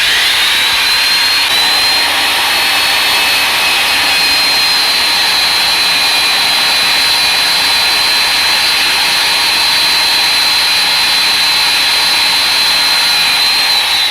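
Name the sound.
vertical band saw cutting metal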